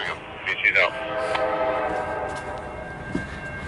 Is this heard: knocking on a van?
no